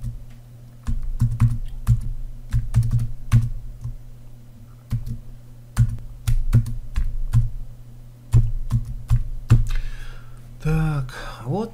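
An email address typed on a computer keyboard, close and clear key clicks in irregular bursts with pauses, a steady low hum underneath and a brief sound near the end.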